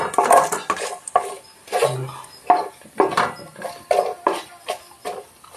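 Spoon stirring kul (jujube) pickle with black pepper and panch phoron in a metal pan: repeated scraping and clinking strokes in an irregular rhythm, close and fairly loud, with no talk.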